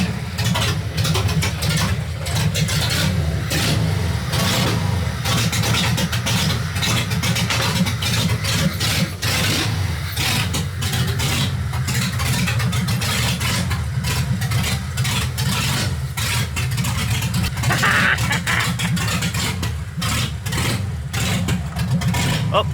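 A Jeep TJ engine runs steadily while driving, a loud continuous low rumble with some rev changes throughout.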